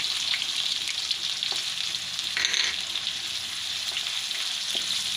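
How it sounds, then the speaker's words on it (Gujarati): Chopped onion, green chillies and red chilli fry in a pan for a soybean curry, with a constant close sizzle, occasional light stirring scrapes and one brief louder hiss midway, and no talking. "હવે આપણે આ ડુંગળી નાખી દેવું"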